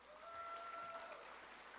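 Brief, faint applause from an audience at a sheriff's office training graduation ceremony, a short burst of clapping with a tone ringing over it.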